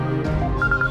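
A telephone rings with a short, loud electronic tone that repeats a few times over a low background.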